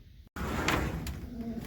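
Pigeons coo inside a pigeon loft, soft close calls with a few brief louder rustles or knocks and a momentary dropout.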